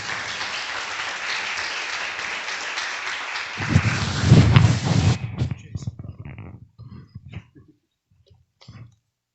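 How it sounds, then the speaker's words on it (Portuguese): A church congregation at a prayer campaign service applauds in a dense, sustained wave, swelling briefly as voices join in, then breaking off into scattered claps, shuffling and murmuring. "Aplauda ao Senhor"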